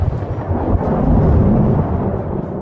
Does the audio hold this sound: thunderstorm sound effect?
yes